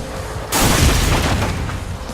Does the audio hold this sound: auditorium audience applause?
no